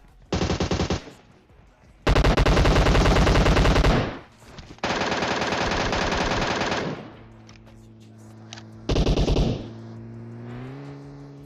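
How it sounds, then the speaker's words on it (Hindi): Bursts of automatic gunfire from behind in the PUBG Mobile battle royale game: three long, loud rapid-fire volleys with short gaps, then a brief final burst over the hum of a damaged vehicle's engine. "उसके ऊपर से ये पीछे से गोली चलाते हैं"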